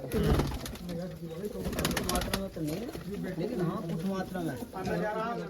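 Pigeons coo in repeated low, throaty warbles close by, one bird prominent with others joining, while a voice speaks over part of the sound.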